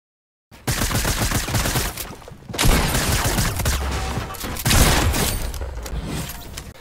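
Shotgun blasts in Fortnite solo battle royale play, heavy booming shots and rapid gunfire erupting after a brief silence and continuing loudly in clustered bursts.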